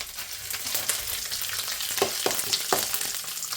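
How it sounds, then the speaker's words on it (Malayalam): Soybean roast frying in a pan gets stirred, a continuous loud sizzle broken by a few scraping stirs near the end. "ഇനി ഒന്ന് ഇളക്കി കൊടുക്കണം"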